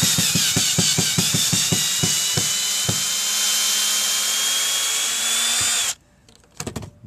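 A cordless power drill backs number 2 sheetrock screws out of a wooden deck in a run of sharp, rhythmic ratcheting bursts, then a long steady high whine, a sudden stop, and a few short spins near the end.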